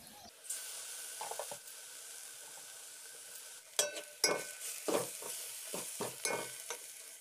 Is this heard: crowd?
no